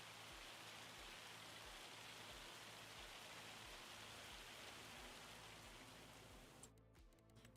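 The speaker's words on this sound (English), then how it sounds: "All right, it's raining." Steady rain falls on a surface in a farming game, dense and even hiss throughout, easing slightly near the end as the texture thins out.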